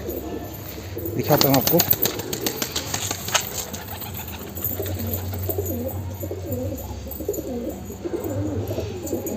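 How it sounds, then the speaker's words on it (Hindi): Pet pigeons coo softly near a rooftop loft box, with a wild black pigeon among them and a short burst of wing flapping early on; someone talks over part of it. "और ये जंगली कबूतर भी आते रहते हैं"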